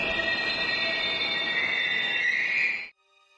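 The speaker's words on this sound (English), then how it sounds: "Sparks fly as the train slams on its brakes." A train in the Steins;Gate visual novel slams on its brakes, giving a loud sustained metallic screech of squealing wheels with rumbling underneath that stops abruptly after about three seconds.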